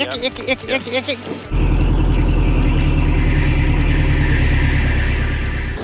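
An Enstrom 280C helicopter engine starts up and settles into a loud, steady running drone with a rapid mechanical pulse, preceded by brief talk.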